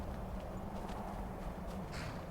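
A horse walks in the video game Skyrim, its hooves clip-clopping softly and steadily under a dense, quiet game ambience, with no voices over it.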